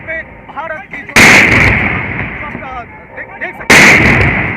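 During a Republic Day national anthem in India, a 21-gun cannon salute is fired from seven cannons. Two loud, booming blasts about two and a half seconds apart stand out over a lower rumbling background.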